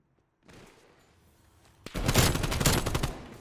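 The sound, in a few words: gunfire in a multiplayer shooter video game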